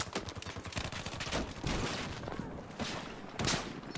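Sustained rapid gunfire from a weapon in the video game Battlefield 4, dense continuous bursts filling the whole stretch with loud, unbroken rattling and no pauses.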